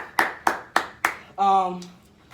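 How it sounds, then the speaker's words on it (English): Four sharp, evenly spaced hand claps ring out close by at the end of a group fitness class, followed by a brief shout. "congratulations, clap it up"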